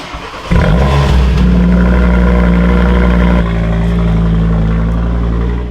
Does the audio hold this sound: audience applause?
no